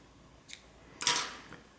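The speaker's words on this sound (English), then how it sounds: "go ahead and cut your yarn" Scissors snipping crochet yarn, a faint light click followed by one louder crisp cut, close and quiet with no talking.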